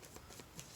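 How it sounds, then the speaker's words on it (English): A deck of cards being shuffled, a quiet, brief run of soft riffling flutters repeating in quick bursts, close but faint. "Why am I shuffling these cards?"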